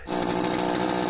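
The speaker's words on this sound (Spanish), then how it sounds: "Motosierra." Chainsaw cutting through fallen trees along a sloped bike park trail, a loud, steady close-up engine roar sustained without a break.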